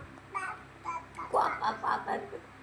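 A voice imitates a duck, giving a few short quacking calls in an uneven rhythm, close and moderately loud.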